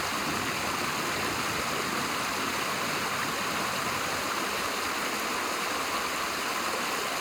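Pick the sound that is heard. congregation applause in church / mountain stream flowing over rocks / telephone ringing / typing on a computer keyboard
mountain stream flowing over rocks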